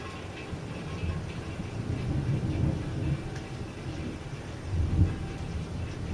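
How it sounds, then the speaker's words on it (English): Low rumbling thunder rolls through a cold-weather winter thunderstorm in February, with steady rain-like noise underneath and a slightly louder swell of rumble near the end; no voices. "you have some on and off rain with maybe some light thunder"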